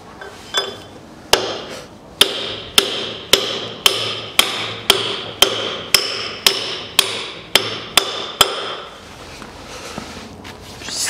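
A hammer drives a part into the front axle of a 1982 Land Rover Series III, landing about fourteen loud, evenly spaced metallic blows close by, each ringing briefly before the next, then stopping.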